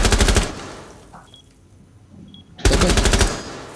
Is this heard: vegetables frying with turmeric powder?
no